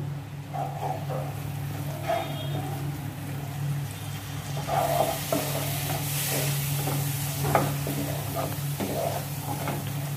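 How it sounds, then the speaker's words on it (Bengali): Prawn curry ingredients with chilli and cumin powder, stirred and fried together in a pan, giving a soft continuous sizzle with scraping spoon strokes and light clinks over a low steady hum. "সব উপকরণ আবার একসাথে নাড়াচাড়া করে ভেজে নেব।"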